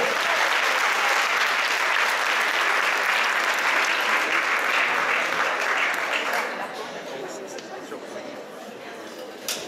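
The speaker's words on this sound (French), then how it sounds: "On peut l'applaudir ici. Bravo." An audience applauds at a stage event for a head-shaving challenge, a dense sustained clapping that fades and thins toward the end.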